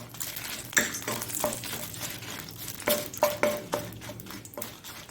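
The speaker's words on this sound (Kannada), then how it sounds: "ಈ ಮೆಣಸನ್ನು ಹೀಗೆ ಹುರಿಯೋಣ. ಒಳ್ಳೆ ಚೆನ್ನಾಗಿ ಇದು ಎಣ್ಣೆಯಲ್ಲಿ ಹುರಿಬೇಕು." Chillies, including Byadgi-type and Ramnad-type, fry in oil for a Mangalorean sardine rasa, with quiet sizzling under repeated close scrapes and clinks of a spoon stirring in the pan and no voices.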